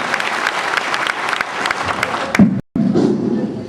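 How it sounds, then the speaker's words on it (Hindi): Applause welcomes a speaker at a rally, with loud crowd clapping throughout, a brief dropout, then clapping resuming. "जोरदार ताली से स्वागत किया जाए"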